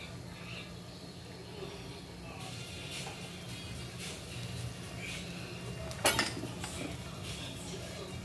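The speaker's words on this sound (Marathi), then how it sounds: "वरती तेल टाकून एकदा पलटे करून घेऊया।" An oiled appe pan holds rava appe being turned over, heard as faint metallic clinks and scrapes of a utensil with one sharper clatter, all quiet against a low background hum and no sizzle standing out.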